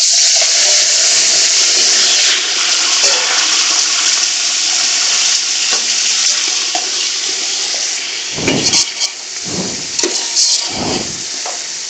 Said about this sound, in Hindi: और इसी के साथ हम डाल देंगे इसमें गोश्त,